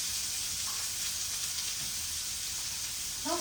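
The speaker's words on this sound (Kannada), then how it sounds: "ಇದು ಬ್ರೌನಿಶ್ ಆಗೋವರೆಗೂ ನೀಟಾಗಿ ಫ್ರೈ ಮಾಡ್ಕೊಳ್ಳಿ." Food fries in hot oil over a gas flame until browning, giving a steady, close sizzle and hiss throughout with a slight swell at the end.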